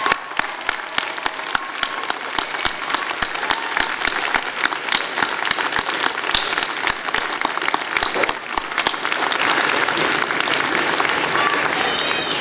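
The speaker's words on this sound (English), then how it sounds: "Let's give them a huge round of applause." An audience at a university convocation ceremony for the Faculty of Health and Social Development gives a long round of applause for their supporters. The clapping is loud, dense and sustained, with sharp individual claps standing out early on.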